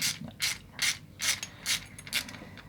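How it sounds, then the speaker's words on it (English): A Torx T20 screw being undone from a wooden toy car gives a run of about seven crisp ratcheting clicks at a steady pace. They sound close and fairly quiet, with no talk. "So this is a Torx 20-bit here, T20. Let's see what happens if we undo this."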